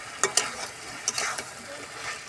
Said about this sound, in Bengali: অনেকক্ষণ চিকেনটা কষিয়ে নিতে হবে।